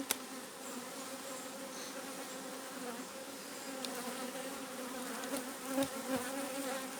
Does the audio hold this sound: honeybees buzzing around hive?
yes